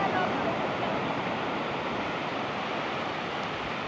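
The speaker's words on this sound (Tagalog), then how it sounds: "Medyo malakas ang alon," Strong sea waves at a beach roar as a steady, broad wash of surf noise, loud and continuous throughout without distinct breaks.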